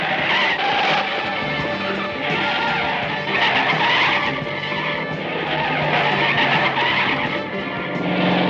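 A car in a spy action movie is driven fast with skidding tires, producing continuous loud engine roar and tire squeal in repeated swelling waves, with no talk over it.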